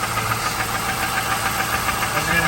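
A 1999 Chevrolet Camaro Z28 with a six-speed and 41,000 miles runs at a steady idle, its engine giving a continuous, even mechanical drone with a faint ticking texture, heard close and alone.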